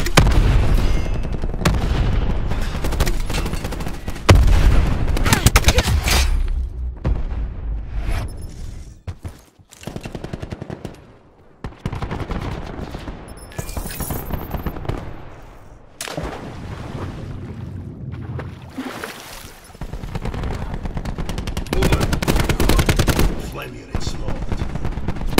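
Heavy artillery bombardment in a combat video game, with loud, dense bursts of booming shells and rapid gunfire rolling almost continuously, and a voice briefly heard over the barrage.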